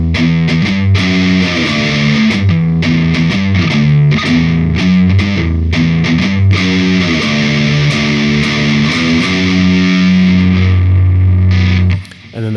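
A distorted electric guitar plays a riff at a slow pace: a loud, dense, steady stream of chugging, sharply attacked notes that cuts off abruptly near the end.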